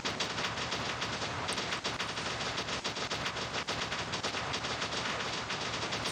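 Sustained machine gun fire from the War Robots video game, a dense unbroken rattle of rapid shots at steady loudness across the whole stretch, with no voices.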